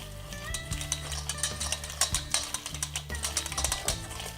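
Meatloaf mixture being mashed and mixed by hand with tomato sauce, giving squelchy, irregular wet stirring and pressing sounds with occasional bowl knocks, close and moderately loud, with no talking.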